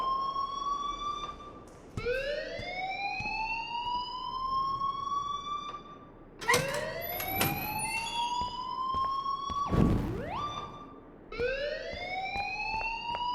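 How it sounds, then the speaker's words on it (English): An alarm sounds in the video game Life is Strange, repeated rising siren wails that sweep up and hold, cycling several times at moderate loudness with a brief burst of noise partway through. "please turn off that alarm since that's your job"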